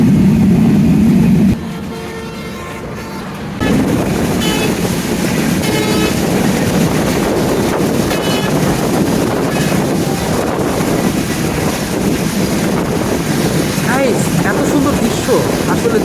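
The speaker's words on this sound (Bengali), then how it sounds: "ট্রেনটা এক পাশ দিয়ে ওরকম হাই স্পিডে চলতেছে" Dhumketu Express train running at high speed, a steady loud rush of rail and wind noise with heavy buffeting from an onboard position, dipping briefly early on before the roar resumes unbroken.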